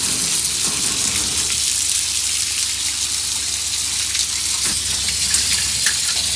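Steady, close hose spray washing dirt off a 1968 Ford F250, a continuous broadband gush with splashing and no talk.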